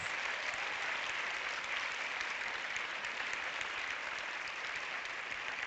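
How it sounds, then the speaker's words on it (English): Audience applause at a European cinema award event, a steady, even wash of clapping from a large crowd, sustained at constant level without pause, heard from a distance. "Big round of applause."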